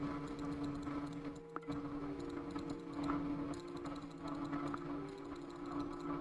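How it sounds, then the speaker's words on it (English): Rapid, forceful mouse clicking runs through the whole stretch while a spooky computer game, Port of Call, is played, with dense close-up ticks layered over a steady game soundscape. "You guys can probably hear me like clicking aggressively."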